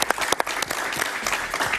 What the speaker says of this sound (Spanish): un gran aplauso para Moisés Naim, por favor.